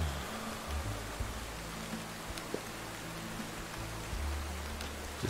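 Steady hiss of rain falling in the Roblox game Lumber Tycoon 2, an even, soft patter throughout, with a few faint low thumps and no talking.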